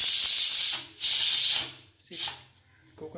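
Steam hisses loudly from a pressure cooker whistle as dal cooks, in two strong bursts with a shorter third puff and quiet gaps between them.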